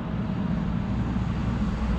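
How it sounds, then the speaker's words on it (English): A Sukhoi fighter jet roars overhead as a steady, loud, low-pitched rumble that holds without a break throughout. "the new fighter jet Sukhoi."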